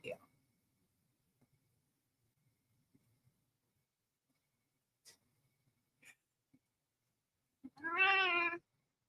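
A fat cat gives one clear, drawn-out meow near the end, after a long stretch of near silence broken only by faint scattered clicks.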